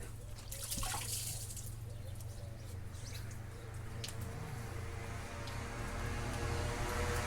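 Coolant water drains steadily out of a car engine during a rocker cover repair, making a continuous close trickle and splash that runs the whole time, with faint background noise.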